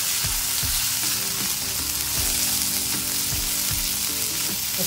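Mixed vegetables and frozen peas fry in a pan for masala oats, with a loud, continuous close sizzle and a few low knocks and scrapes of stirring throughout.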